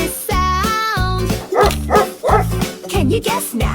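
A dog barks in a children's animal-sound song, with several sharp woofs spaced in a loose rhythm over a backing of sung notes.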